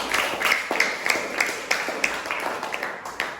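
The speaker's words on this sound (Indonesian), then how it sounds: "Beri tepuk tangan untuk kita semua." A class gives itself a round of applause at the end of a school lesson, with steady, evenly spaced claps ringing out close by in a rhythmic beat.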